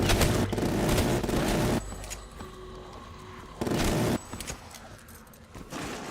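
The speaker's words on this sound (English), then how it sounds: "Death machine gun?" Gunfire from the Death Machine in Mob of the Dead, with loud sustained automatic bursts at the start and again mid-clip, separated by quieter stretches of echoing game ambience.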